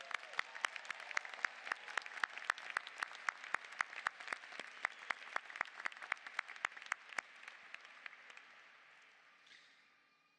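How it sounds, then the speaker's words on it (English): Graduates at a university business school commencement ceremony receive applause from the audience, a steady patter of individual claps with sharp accents that thins out and fades near the end. "Let's give them a little applause."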